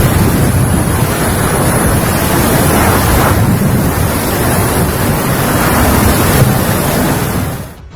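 A heavy wind and rain storm in China fills the air with a loud, continuous roar. Gusts buffet the microphone and a constant rushing wash carries on without break until the sound cuts off abruptly at the end.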